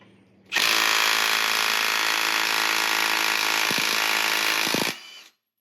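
A Milwaukee M18 3/8-inch cordless impact wrench works on a stubborn nut, giving a loud, continuous whirring hammer at close range for about four seconds before stopping abruptly.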